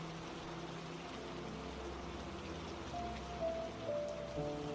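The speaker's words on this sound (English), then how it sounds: "the pitter-patter of the rain had become much lighter" Light, steady rain patters on a surface, a soft continuous hiss with faint drips and a low background hum, quiet and unbroken throughout.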